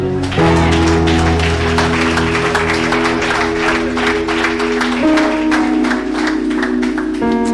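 A church congregation claps and acclaims the Lord together, a dense, steady wash of applause running throughout over sustained music or singing tones, close and loud.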